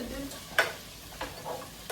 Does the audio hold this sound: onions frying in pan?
yes